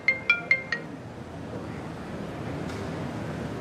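A mobile phone ringtone sounds with an incoming call: four quick, bright beeps, then the ringing stops and soft room noise follows.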